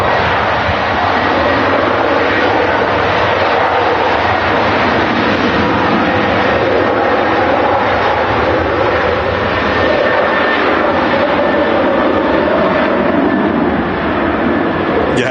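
An Aer Lingus airliner rolls for takeoff on runway 23 left at Manchester Airport, its engines a steady, loud, continuous roar heard from nearby for the full stretch without letup.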